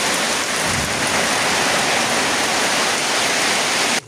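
Heavy rain pours down steadily in a hilly area, a loud, dense, continuous roar of drops drumming on surfaces close by, with no voices.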